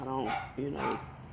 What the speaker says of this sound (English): you hear the barking